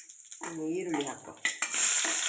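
Onion hits hot oil in a pan with mustard seeds and chilli for drumstick flower dal sambar, a near sizzle rising into loud frying with stirring, after a brief voice at the start.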